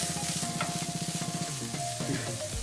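Onions fry and get stirred into a beef sauce for elbow macaroni, a close, busy sizzle with rhythmic stirring strokes, under background music.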